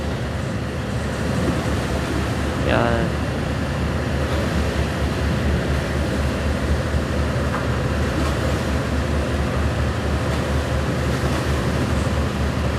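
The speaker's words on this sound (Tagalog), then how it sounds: "Ang lalaki guys ng alon." Large, rough sea waves churn around a ferry on the crossing from Manila to Marinduque, a constant broad roar of water and wind buffeting close to the microphone, steady from start to finish.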